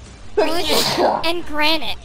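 A sneeze bursts out during a lively studio panel discussion at a gaming showcase event, one sharp, close, loud expulsion followed by brief talk from the group.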